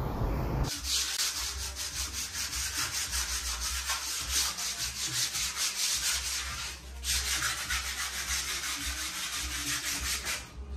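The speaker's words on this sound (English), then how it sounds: "After skimming, you're going to sandpaper the wall to ensure the whole wall is levelized" Continuous rough rasping of sandpaper rubbed back and forth over a freshly skimmed plaster wall, steady and close, with a brief pause partway through and no talk.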